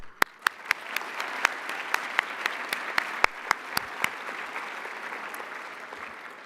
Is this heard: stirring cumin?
no